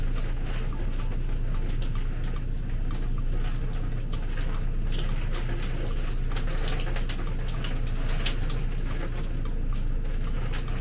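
Water runs steadily from a tap during hair washing on a wash day for natural braids, a constant close splashing hiss with no talking.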